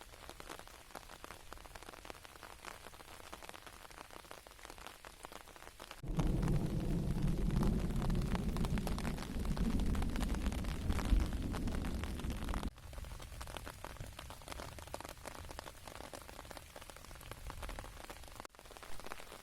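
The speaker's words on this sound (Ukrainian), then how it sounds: "Мелодія тихого літнього дощу ніжно грає на листі, пелюстках і землі, мов арфа природи" Steady summer rain patters on leaves, petals and ground, growing heavier through the middle stretch before easing back to a softer patter.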